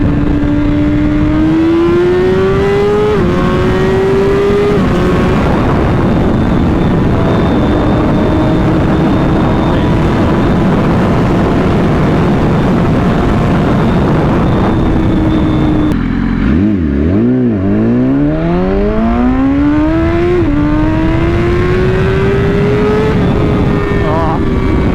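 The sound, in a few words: BMW S1000RR motorcycle accelerating hard, throttle pull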